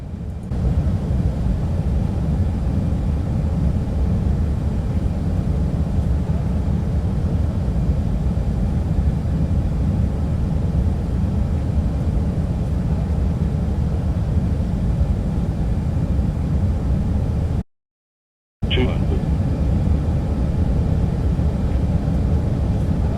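Airbus A319 airliner on landing approach into Paro, Bhutan, in the X-Plane 11 flight simulator: a steady, loud engine and airflow drone holds throughout, broken by a sudden second of silence and a brief high chirp late on.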